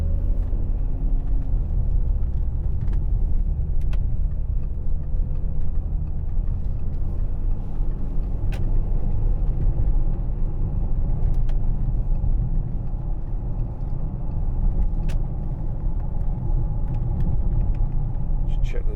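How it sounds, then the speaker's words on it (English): Steady low road and tyre roar inside a 2010 Audi Q7 3.0 TDI S line Tiptronic cruising at about 70 mph, a constant rumble beneath someone talking. "there's a little bit of tyre noise."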